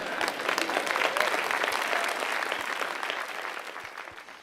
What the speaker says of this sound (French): Vous n'êtes pas certain si vous applaudissez là ici